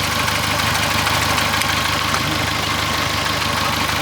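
An old Geo Tracker engine runs steadily after years of neglect, giving a loud, constant mechanical drone with a faint rattle and no clear rev changes, and no talking.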